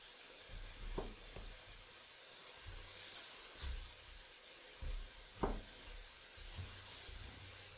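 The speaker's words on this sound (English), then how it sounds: "I really hope you can hear me over all that bacon sizzling" Quiet, continuous crackling sizzle of bacon frying in a pan, with occasional soft clicks and pops over a steady hiss.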